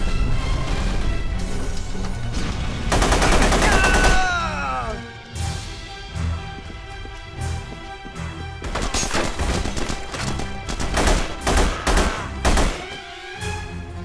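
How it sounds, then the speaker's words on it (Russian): Gunfire in The Punisher video game, with several loud, sharp bursts of shots and crashes over a busy game soundscape of music and effects, in clustered volleys toward the end. "Выстрел, Кэсл."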